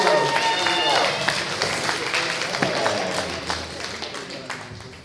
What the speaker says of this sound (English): let's give a round of applause to Dan.